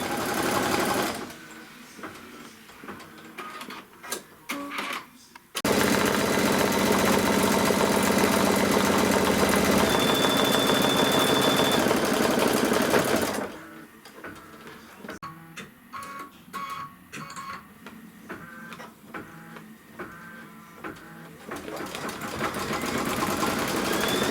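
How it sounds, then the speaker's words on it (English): Embroidery sewing machine stitching a quilting design on a wildflower quilt block, a loud steady whirring hum in long runs alternating with quieter stretches of rapid needle clatter and stops. "After it stitches the quilting, it's going to stitch like the little legs and the antenna."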